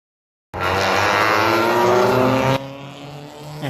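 A Hyundai Excel race car roars past on a racing circuit during a club race round, loud engine rising in pitch with a sharp drop as it passes, followed by more engine noise in the distance.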